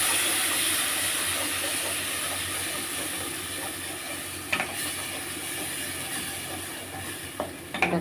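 Onion, garlic and cashew paste stirred in oil over a lowered gas flame, giving a steady soft sizzle and hiss with a few scraping stirs near the end.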